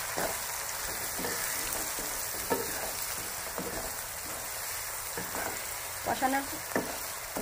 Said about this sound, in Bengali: এটা দিয়ে আমি ভালো করে কষাতে থাকবো।